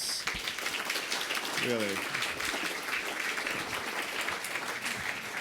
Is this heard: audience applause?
yes